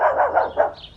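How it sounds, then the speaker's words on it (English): A small pet pup yaps four quick barks in about a second, close and fairly loud, with no talk. "He won't stop barking."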